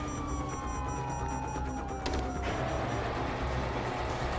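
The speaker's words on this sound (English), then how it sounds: "you hear that? Sirens." A police siren in the video game GTA 5 wails over a dense, noisy backdrop of mechanical clatter and rumble, its pitch slowly sliding downward before a louder burst of noise takes over.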